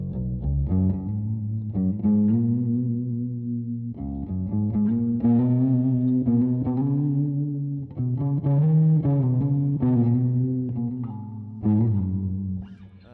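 Electric guitar played through a boutique spring reverb pedal, with sustained strummed chords and picked notes ringing out and a resonant, slightly tinny wash of reverb; loud and continuous, no talking.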